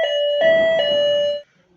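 A battery-powered electric doorbell sounds three quick electronic chime strikes in a row, loud and close, ringing for over a second before cutting off into silence.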